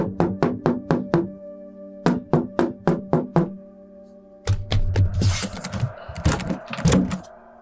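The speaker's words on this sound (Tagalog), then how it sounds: "May mahinang katok sa pinto." Knuckles rap on a wooden door in quick bursts of five or six, fairly close, followed by rougher thumping and clattering as the door is handled.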